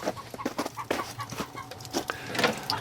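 Chickens in a barn cluck in quick, irregular bursts, several birds close by at moderate loudness.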